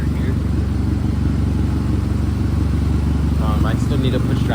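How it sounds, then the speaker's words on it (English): Turbocharged Honda Accord CG6 engine idling steadily, a loud continuous low rumble that runs throughout, with a brief faint whine near the end. "right now it's just running idling, charging up the battery"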